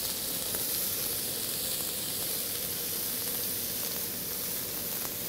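Zucchini hits hot oil in a pan and sizzles with a steady, bright, hissing crackle that holds at an even level throughout, with no voices.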